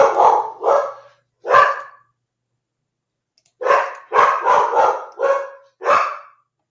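Dogs bark loudly and close by in short, sharp bursts: a few barks, a brief pause, then a quicker run of five or six barks in a row.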